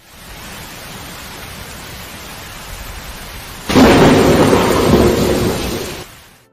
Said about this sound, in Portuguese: acho que está chovendo